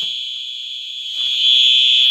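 A home fire alarm blares a continuous high-pitched electronic tone, loud and close, holding steady without a break and swelling slightly louder toward the end.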